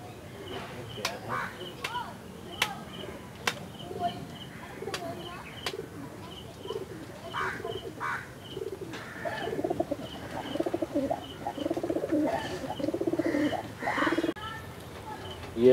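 Madrasi pigeons of the Chennai breed coo in a loft, soft repeated low coos with occasional sharper clicks and wing or perch noises, while people talk close by.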